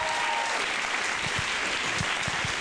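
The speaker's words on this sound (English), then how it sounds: "Maybe we can give them one last round of applause." A pageant audience for the Miss and Mrs. BC evening gown event breaks into a loud, dense round of applause, with a few low thumps rising through the continuous clapping.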